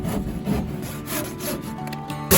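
Big devil's club sticks being shortened with a saw on a workbench, a steady run of close, rasping back-and-forth strokes through the wood, heard alone.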